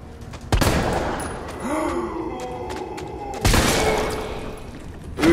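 Two sharp, loud bursts of gunfire in Resident Evil 3, one near the start and another around the middle, with a rumbling, noisy background between them.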